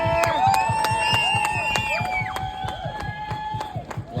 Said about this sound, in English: Let's give you a big cheer.